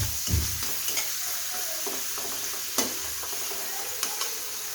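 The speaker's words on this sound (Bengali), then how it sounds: "এর মধ্যে টেবিল চামচের 1 চামচ পরিমাণ তেল দিয়ে দিলাম। দিয়ে দিচ্ছি আমি এখানে" An onion fries in a tablespoon of oil in a pan for Bengali cauliflower curry, giving a soft steady sizzle with scattered spatula taps and stirring clinks close by.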